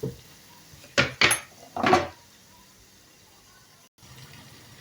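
A spoon clatters against a metal pot while Rumeli paça soup is stirred, three quick clanks close together, then quiet low kitchen noise with no talking.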